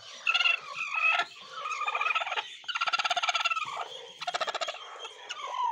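An Aseel hen sitting on eggs gives repeated throaty, rattling fowl calls in several close bursts separated by short pauses, fairly loud and without any talking.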